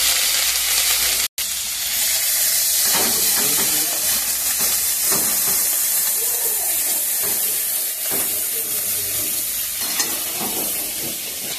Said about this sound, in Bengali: এবার মশলাগুলোকে তেলে ছেড়ে দিচ্ছি।